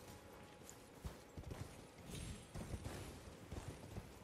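Horse hooves galloping in the video game Elden Ring, a steady run of rhythmic thuds at moderate loudness, with a few heavier impacts and game ambience underneath.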